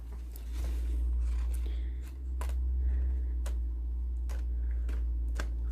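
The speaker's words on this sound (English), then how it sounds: "I'll just cut it." Scissors cutting through paper card stock while trimming a slimline card, producing a handful of sharp, separate snips spaced across the moment, close up over steady low background hum.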